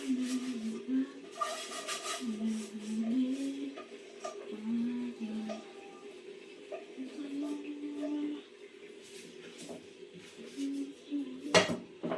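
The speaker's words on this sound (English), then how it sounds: "Okay, so I'm going to go and wash this pot." Pot being washed by hand, with intermittent scraping, clinking and rinsing clatter close by while a person talks throughout.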